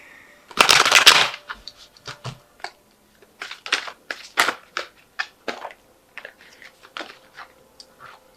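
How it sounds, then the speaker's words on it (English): Tarot cards riffle-shuffled up close: a loud dense burst of flicking cards, then a run of separate crisp taps and slaps as the deck is squared and cut. "Let's just give it another shuffle"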